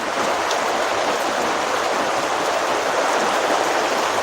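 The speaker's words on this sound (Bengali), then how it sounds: "এই যে এখন আবার বৃষ্টি বাড়ছে কিছুটা" Rain pours steadily, a loud, even wash of hiss that never lets up, with no voices over it.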